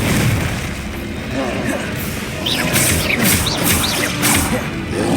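Confringo fire spells detonate in Hogwarts Legacy combat, with loud, dense blasts and crashing impacts layered over continuous battle noise, and sharper bursts clustering in the second half.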